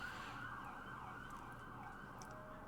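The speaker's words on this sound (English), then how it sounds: "I apologize for the fire truck that's going by." A fire truck siren sounds somewhere in a downtown street, a steady wailing tone held throughout under constant traffic rumble, moderately distant and fairly quiet.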